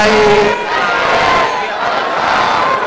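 A large crowd at a Bengali Islamic waz sermon gathering chants Allahu Akbar in unison in answer to the Nara-e-Takbir call, a loud massed shout held for several seconds, then fading to a sustained roar.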